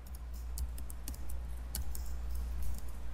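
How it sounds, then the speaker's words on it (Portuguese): Someone types on a computer keyboard in scattered, fairly quiet key clicks over a steady low hum, with no talking. "vamos digitar aqui recuperação"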